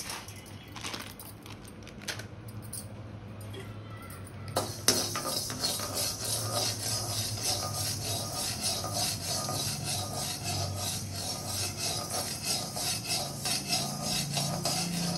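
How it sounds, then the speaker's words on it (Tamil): Horse gram dry roasts in a pan, a continuous close scraping and rasping as the dry grains are stirred and tossed against the metal, sharpening into a steadier, louder rustle partway through. "கொஞ்சோண்டு கொள்ளு கொஞ்சமாக போட்டு நம்ம வந்து வறுத்துக்கலாம்"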